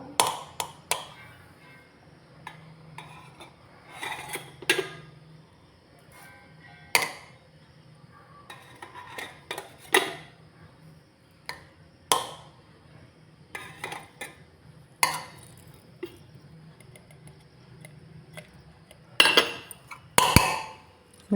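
A spoon scoops crumbled flour into a puttu mould, making sparse, sharp metallic clinks and taps every few seconds against a quiet kitchen background, close by with no voices.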